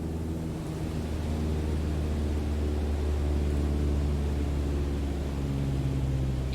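Steady, continuous drone of a light aircraft engine in Microsoft Flight Simulator 2020, throttled back to about 1,800 RPM in level flight, a low hum with a faint broadband hiss that holds constant, with no voices.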